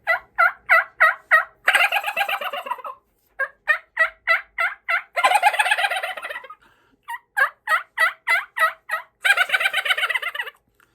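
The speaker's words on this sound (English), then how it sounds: "Just a yelp gobble combo." A turkey yelp and gobble combo made on a diaphragm turkey call: loud runs of evenly spaced yelps alternate with rattling gobble bursts, clear and alone.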